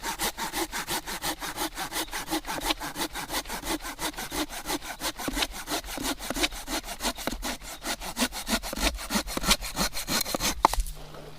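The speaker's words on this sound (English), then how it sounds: "use our saw." A hand saw rasps through a piece of wood held against a leg outdoors, fast even back-and-forth strokes, close and continuous, ending with a short knock.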